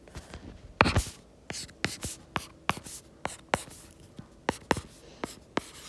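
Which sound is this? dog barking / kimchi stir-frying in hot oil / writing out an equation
writing out an equation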